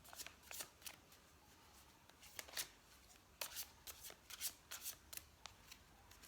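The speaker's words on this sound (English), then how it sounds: "just start with a quick shuffle." Tarot cards shuffled in the hands, a run of quick crisp riffling snaps and flicks in irregular bursts, close and fairly quiet with no talking.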